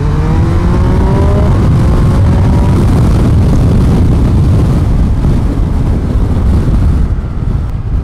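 A sport touring motorcycle engine while riding, loud and steady with rising revs through the gears, heavy wind rush over the microphone throughout.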